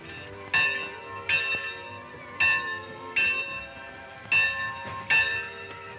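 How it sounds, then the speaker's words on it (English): A school bell rings in six bright, resonant strikes spaced about a second apart, each ringing out and fading before the next, loud and close, with no talking. "Hurry up, Bill, there goes the bell"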